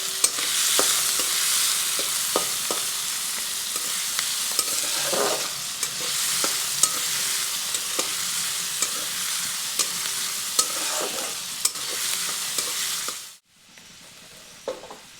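Finely chopped onions sizzle steadily in a pan while a utensil stirs and scrapes them in irregular taps, loud and close, before the sizzling cuts out near the end.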